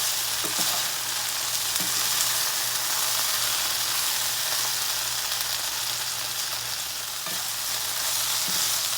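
Food browning in a hot pan while being stirred, a loud steady sizzle and hiss with faint scraping stirring sounds mixed in throughout.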